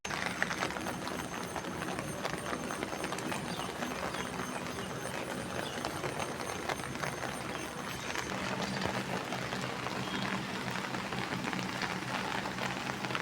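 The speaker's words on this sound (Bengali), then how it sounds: "সকালে উঠে দেখি বৃষ্টি আর থামছে না" Steady morning rain keeps falling on a rooftop flower garden after raining all night, a dense, even patter that holds at a constant level throughout with no voices.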